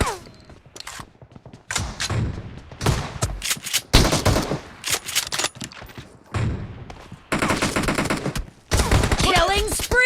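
Shotgun fire in a video game, with a rapid series of loud, close blasts in irregular bursts, separated by short gaps, and brief game voice lines mixed in.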